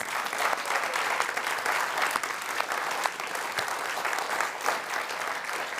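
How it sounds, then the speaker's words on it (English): Audience applauding honorees at a synagogue's annual meeting and volunteer appreciation event, sustained even clapping from a large crowd at a steady level, with no talking over it. "One last round of applause for our honorees."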